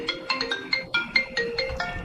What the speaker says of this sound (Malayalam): അയ്യോ, ഒരു കോൾ വന്നു.